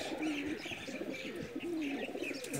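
A Rampuri flying pigeon coos softly and repeatedly close by, with low rolling calls in a steady rhythm against faint background noise.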